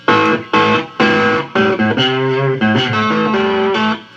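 Distorted riffs from a three-string cigar box guitar through a Blues Driver pedal set around half gain, loud and close, with several separate strummed chords giving way to a sustained run of notes.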